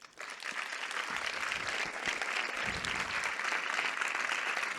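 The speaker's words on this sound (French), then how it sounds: "je vais vous demander évidemment des applaudissements nourris pour la réalisatrice du film" An audience at a festival forum screening applauds the film's director, a full, steady clatter of many hands clapping together in a large room without speech.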